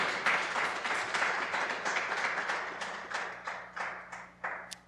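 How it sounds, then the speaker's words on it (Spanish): Congregation at a church service applauding, a dense steady wash of many hands clapping together, fairly loud and continuous, with a few sharper individual claps standing out as it tapers slightly toward the end. "Y dele un aplauso al Señor, por favor."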